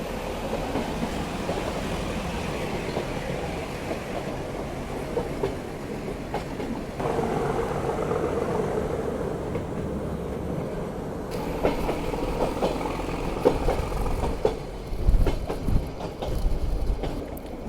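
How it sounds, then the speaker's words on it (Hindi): Nilgiri Mountain Railway toy train climbing toward Ooty, a steady rumble of wheels and carriages with rhythmic clickety-clack and occasional squeals, loud and continuous throughout. "जैसे जैसे ट्रेन ऊपर बढ़ रही है"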